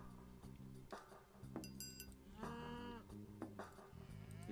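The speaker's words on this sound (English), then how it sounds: "Alright, bring the cows out of the pen." Cattle low with several moos in the Age of Mythology video game, short and close, mixed with light clinking and chinking sounds over a steady game background.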